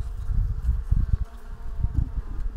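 Honeybees in a weak hive, its frame stocked with pollen and a little honey, give a low, steady buzzing hum with soft swells and flutters. Everything stays close and no voices are heard.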